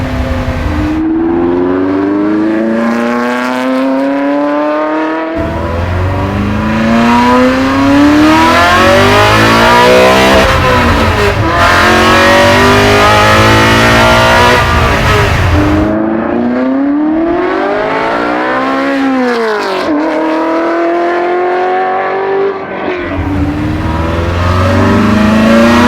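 A loud custom widebody Ford GT40 restomod engine revs hard toward 8,000 RPM through rising gears, pitch climbing and dropping between shifts, close and sustained with no voices.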